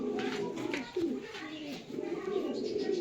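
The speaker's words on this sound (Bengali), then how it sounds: "প্রত্যেকটা পায়রা খুব অ্যাক্টিভ আছে" Matraj pigeons coo close by in low, throaty repeated calls, with faint rustling and chirps in the background.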